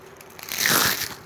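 Dry-roasted curry leaves crunch and crumble in a single short, crisp burst that swells and fades over about a second, close up with no talk.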